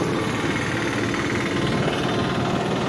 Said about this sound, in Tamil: அதே பாருங்கள், நான் வண்டி ஓட்டுறேன்.